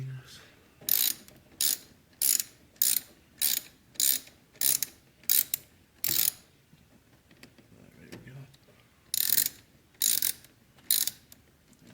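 A ratchet works a 10mm bolt loose on an Audi A4, giving repeated rapid clicking bursts in a steady rhythm, then a pause and a few more bursts, close and clear.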